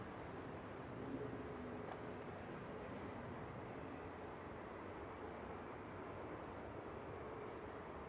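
A Boeing 737 MAX 8 airliner approaches Manchester Airport from far away, a faint, distant, steady engine rumble mixed with outdoor wind and ambient noise, no voices over it.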